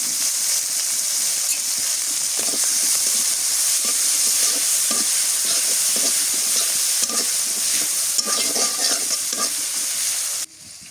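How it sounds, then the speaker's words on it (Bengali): Sliced ridge gourd sautéing in hot mustard oil in a village kitchen, with a loud continuous sizzle and repeated scraping strokes of a spatula, close up, stopping abruptly near the end, with no voices. "ঝিঙ্গাটা কষাই নিই।"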